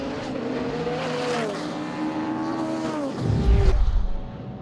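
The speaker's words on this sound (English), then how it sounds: "We've got 10 cars on track." Racing cars, including sports and saloon cars, roar past on a track with rising and falling engine whine, several overlapping, ending with a deep rumbling surge as one passes close.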